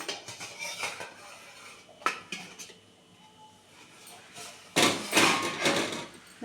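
A metal lid comes off an idli steamer pot of boiling water with sharp clanks and rattles, and a louder burst of metallic clatter follows near the end, all close by.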